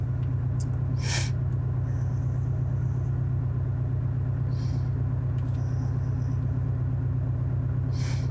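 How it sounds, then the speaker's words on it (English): Inside a sports car on a curvy mountain road, a Toyota Supra or Porsche Cayman GTS, a steady low engine drone and road rumble, with a few faint clicks and brief higher tones over it. "Couldn't have asked for a better day to be in two sports cars on a curvy mountain road."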